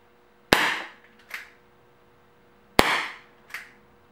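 Two Crosman SNR357 CO2 air pistol shots fired at a paper target, each a sharp, close crack followed a fraction of a second later by a softer pellet impact, spaced about two seconds apart with no speech.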